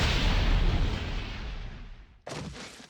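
An explosion in the fighting game Naruto Shippuden Ultimate Ninja Storm 4 bursts loudly, rumbles and fades over two seconds, then a second, sharper blast hits near the end.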